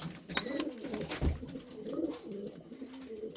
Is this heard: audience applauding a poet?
no